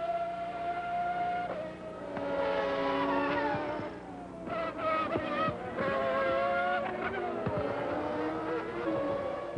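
Formula 1 race cars from the mid-to-late 1990s, loud high-pitched engines wailing and shifting pitch as they pass close by, with sharp bursts of noise suggesting a car leaving the track in a crash.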